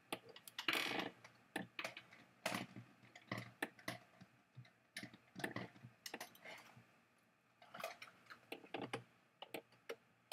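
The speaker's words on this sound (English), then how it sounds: "That's my backup keyboard and mouse." Keys clacking on a backup computer keyboard in irregular bursts of fast taps with short pauses, close by and moderately quiet, with no voices.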